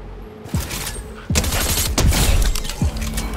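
Bursts of Fortnite gunfire ring out in quick succession, loud and close, with several sharp volleys spaced over a few seconds and no talking over them.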